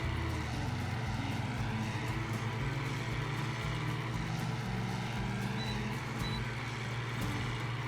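An Ursus 1224 tractor engine in the video game Farming Simulator 2013 drones with a steady, loud low-pitched rumble that shifts slightly in pitch as it runs, with no voices.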